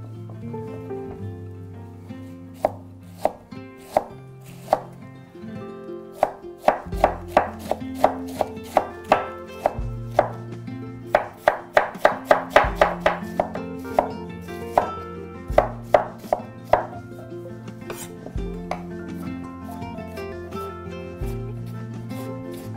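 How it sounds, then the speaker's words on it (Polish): Rapid knife strokes shredding white cabbage and cutting carrot into strips on a board, coming in bursts of quick rhythmic thuds and cracks, close and clear, with no talking. "ja poszatkuję białą kapustę i pokroję marchewkę w paski"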